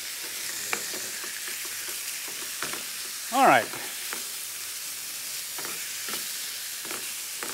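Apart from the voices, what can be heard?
food sizzling while frying in a pan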